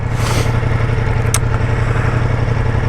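Ducati Multistrada V4S motorcycle on a test ride gives a steady, loud engine drone mixed with wind rush, with one brief click partway through.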